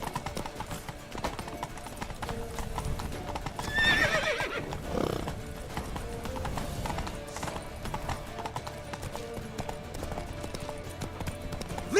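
Horse hooves clip-clopping with a neigh in The Witcher 3 video game, a steady galloping rhythm under game sounds and a brief whinny near the middle, with faint voices in the background.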